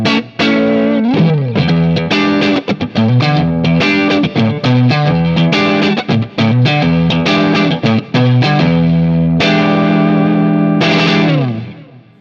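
Electric guitar run through a Texas Star Lead pedal with compression, playing full, fat clean chords and single notes with steady sustain and a slight chorus-like shimmer, continuous and loud before fading out at the end.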